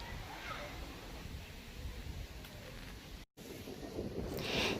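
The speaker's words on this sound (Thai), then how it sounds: "ตรงนี้ลมแรงมากเลยนะคะ" Strong wind gusting over a hilltop at Wat Khao Phra Yai temple in Pattaya, a steady loud roar buffeting the microphone, with one brief dropout near the end.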